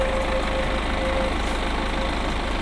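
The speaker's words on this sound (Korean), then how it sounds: "엔진 소리 일정합니다." A steady, low diesel engine idle of a BMW 520d M Sport Plus (G30) hums evenly throughout, with a constant rumble and no change in pitch.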